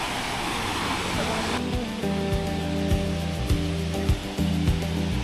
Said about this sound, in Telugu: ఇవే ది మెస్మరైజింగ్ అతిరపల్లి ఫాల్స్